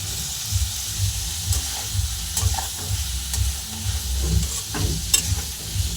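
Egg curry (dimer kosha) with salt and turmeric stirred and sizzling in a pan, a steady close hiss of frying with scraping stirs recurring every second or so, no voices.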